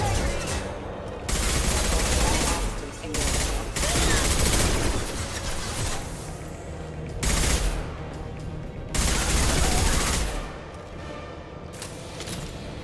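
Sustained automatic gunfire in Mass Effect 2 comes in long, loud, rattling bursts separated by brief lulls, dense and close throughout.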